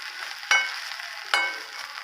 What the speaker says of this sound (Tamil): தேங்காய் வந்து ஒரு பிடி வச்சுருக்கோம் அதையும் இதில் வறுத்து எடுத்துக்கலாம்